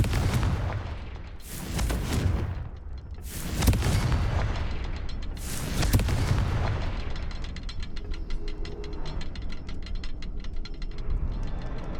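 Repeated Confringo explosion spells in Hogwarts Legacy: three or four loud, booming blasts with broadband crackle land about every two seconds, followed by a denser rumble of smaller bursts and rattling debris, with no talking.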